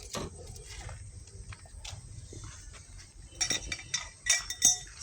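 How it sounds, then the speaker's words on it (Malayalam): Car wheel nuts being loosened with a spanner during a tyre change, giving quiet metallic clinks and scrapes that grow louder and sharper toward the end, with no speech. "സ്പാനർ മാത്രം ഉപയോഗിച്ച് ഇങ്ങനെ ഇളക്കാം."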